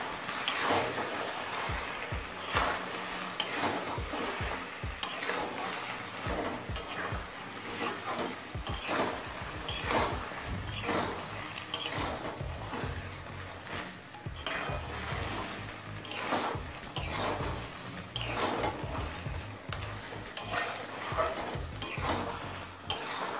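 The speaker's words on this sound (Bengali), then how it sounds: "চিনি আর বড়িটা দিয়ে মেশানো হয়ে গেছে।" Sugar and bori stirred into bottle gourd and spinach cooking in a pan, with many rapid scraping and clattering strokes of a spatula against the pan over a soft sizzle, continuous and close, no talking.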